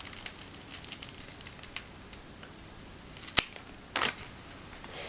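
Scissors snip through a thick Monstera deliciosa stem in one sharp, loud cut, followed by a second softer crunch, over faint handling rustle with no talk.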